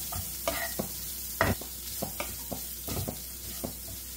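Cauliflower and coconut being stirred in a pan for a Kerala thoran, a string of distinct spoon scrapes and knocks against the pan over a faint sizzle and low hum, close by, with no talk.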